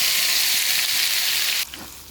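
Turmeric, chili powder and ground masala drop into hot oil with cumin and bay leaf, giving a loud, steady, close sizzle that stops sharply near the end and leaves faint kitchen noise.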